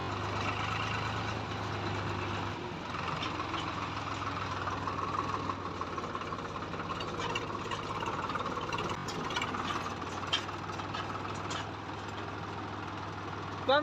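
A tractor engine runs steadily on a farm during a wheat harvest, a low continuous rumble with some knocking texture that shifts slightly in load, heard at moderate distance with faint background activity.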